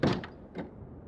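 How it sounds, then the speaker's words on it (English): A door in the survival game The Long Dark opens and closes, giving two or three short, soft wooden creaks and thumps close by. "All these creaking doors kind of sound like wolves."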